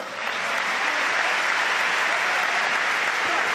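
A crowd applauds at a world table tennis championship match, with dense, steady clapping swelling in at the start and filling the whole hall at high volume.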